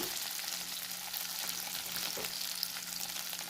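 Potato pieces fry in a pan for sabudana khichdi, making a steady, even sizzling hiss that holds throughout, close but moderately quiet and with no speech.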